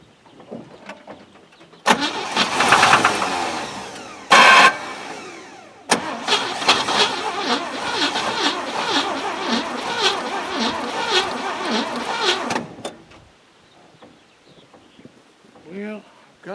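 A GMC V12 engine that will not fire cranks hard and close at night, with a rapid starter chug in two long bursts separated by short pauses, then falls quiet. A voice speaks over part of it.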